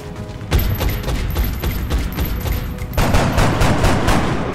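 Gunfire in an XCOM Long War firefight, a dense run of rapid shots and bursts that grows heavier toward the end, loud and close with no talking over it.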